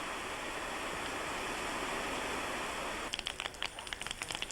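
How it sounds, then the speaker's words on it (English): Heavy rain pours down steadily during an outdoor shadow puppet performance, a dense, even hiss that fills the air, with faint pattering drips rising near the end. "A downpour threatens to dampen the spirit of all involved."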